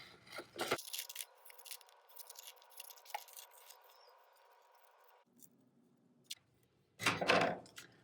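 Scissors snip through paper templates in a few short, crisp cuts, quiet and close, separated by near silence and some faint handling rustle.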